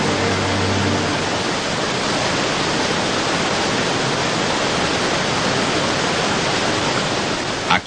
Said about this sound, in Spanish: Aquí, en el origen del río Jordán, está el punto más al norte que visitaron Jesús y sus discípulos